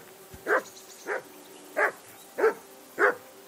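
A dog barks in the medieval video game Kingdom Come: Deliverance II, five evenly spaced single barks at moderate distance over a quiet ambient background, with no voices.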